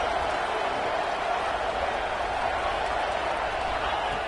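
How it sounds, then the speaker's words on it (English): A football stadium crowd roars steadily on third down, a dense, continuous wash of cheering and noise that holds at the same loud level throughout with no breaks. "Third down and the crowd really getting into it."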